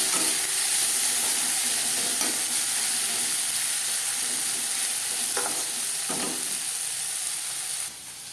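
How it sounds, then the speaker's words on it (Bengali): Potatoes fry in hot oil with salt and turmeric, a loud continuous sizzle with occasional stirring scrapes, close up, cutting quieter just before the end. "লবণ হলুদ দিয়ে আলু ভেজে দেবো"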